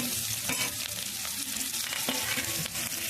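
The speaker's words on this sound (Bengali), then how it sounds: "এবারে তেল দিয়েছি, তেল দিয়ে 5 ফোড়ন দিয়েছি।" Panch phoron spices crackle in hot oil in a pan, a dense, loud, continuous sizzle with occasional stirring scrapes, alone with no voices.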